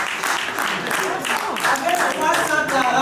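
Crowd applause, dense steady clapping throughout the short stretch with voices mixed in.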